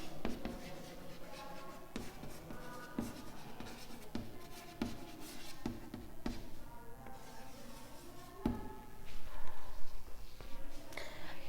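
A four-velocity physics derivation is written out by hand in steady scratching strokes broken by sharp taps, with a faint voice now and then underneath.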